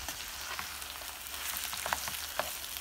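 Meat and holy basil stir-fried in a pan give a steady close sizzle, broken by occasional spatula scrapes and stirring ticks, with no speech.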